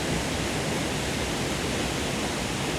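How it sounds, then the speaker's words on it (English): Mountain waterfall in the New Zealand highlands, a steady, dense roar of falling water heard close up, unbroken and even throughout with no voices. "I've come down a little bit closer to the falls"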